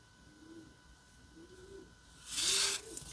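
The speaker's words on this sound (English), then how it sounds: "we currently have a couple pigeons that have made a nest on our roof" A pigeon nesting on a roof coos softly three times at a steady pace, followed by a brief burst of rustling or flapping nearby.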